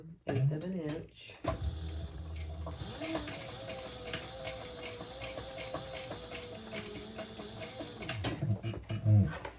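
A sewing machine stitches a row 1/8 inch from a line on a bag pattern, with a steady, fast mechanical whir and rhythmic clatter running for several seconds, close up, with a voice talking briefly at the start and end.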